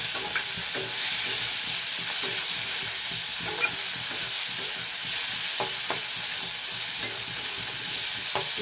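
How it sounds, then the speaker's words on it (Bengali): Spice paste with coriander powder fries and is stirred in a pan for a prawn, cauliflower and potato posto curry, a steady sizzle under repeated soft scraping strokes. "হালকা হালকা নাড়তে থাকবো মশলাটা এখানে কষা হচ্ছে"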